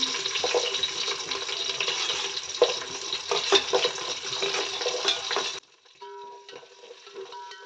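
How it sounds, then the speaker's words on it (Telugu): Onions and green chilli pieces fry in a pan, a steady close hiss and crackle with faint stirring, cut off abruptly near the end into quieter kitchen clatter. "పచ్చిమిర్చి ముక్కలు కూడా వేసుకుంటున్నాను ఇందులోనే ఆనియన్స్ వేస్తున్నాను"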